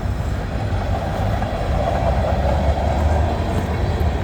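A train rumbles past on the tracks, a steady loud low roar with faint rhythmic clatter throughout, no voices.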